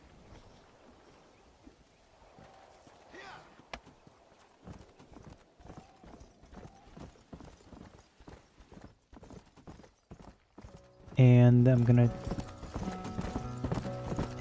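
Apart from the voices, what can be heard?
horse hooves while riding in Red Dead Redemption video game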